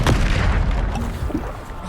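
Bombarda blasting spell explosions in the video game Hogwarts Legacy, a loud booming burst at the start followed by a rumbling low-end decay, with no talk.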